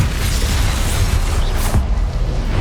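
Confringo blasting spell explosion in the Hogwarts Legacy video game, a dense, sustained rumbling blast with booming low end and crackling bursts running the whole stretch, loud and close.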